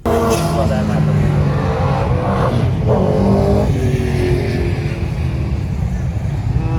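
Cars at a 1/8 mile off-street drag race at a lakeside park roar and rev loudly and continuously close by, with rising acceleration sweeps, while people talk over the engine noise.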